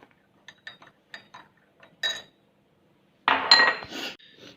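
Ingredients and two tablespoons of oil get stirred in a bowl for puff pastry patty dough, with light scattered clinks at first, then a louder scraping, rattling burst of mixing near the end.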